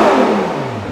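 A Ferrari 812 GT's naturally aspirated engine, with no hybrid or turbo, free-revs to its 9,000 rpm limiter, heard as a loud, close, continuous howl whose pitch falls steadily as the revs drop away, with no voices.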